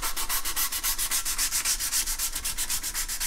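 An acoustic guitar back brace is sanded smooth by hand in steady, rapid back-and-forth strokes, close and even throughout with no talking.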